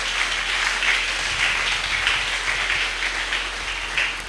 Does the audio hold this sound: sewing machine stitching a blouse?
no